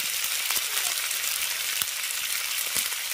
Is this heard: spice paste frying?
yes